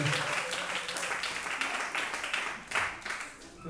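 A church congregation applauds in acclaim during a worship service, a steady wash of many hands clapping that swells and dips across the clip, with some voices mixed into the crowd.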